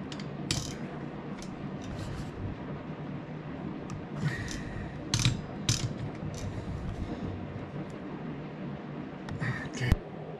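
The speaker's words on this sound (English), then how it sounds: "We got those all torqued down to about 17 to 20, somewhere in that range." A ratchet tightens bolts on a John Deere Tuff Torq K46 transaxle during a seal repair, giving repeated clicking and mechanical clatter over steady workshop background noise, with a sharper metallic clink near the end.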